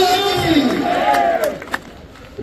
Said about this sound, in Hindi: तालियों से इंद्र देवता को हम धन्यवाद करें।